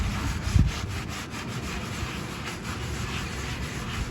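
Rust being scrubbed off a metal curbside plant stand, a close continuous rasping scrub with rapid repeated strokes, one brief knock near the start, no voices.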